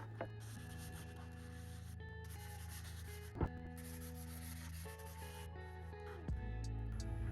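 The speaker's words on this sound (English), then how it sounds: "I also like to hand sand the edges a little bit so that the edges of the boards aren't super sharp" Wooden coat rack boards are hand-sanded along their edges, making a soft, dry rubbing and rasping. The strokes continue quietly for several seconds, with a brief sharper scrape near the middle.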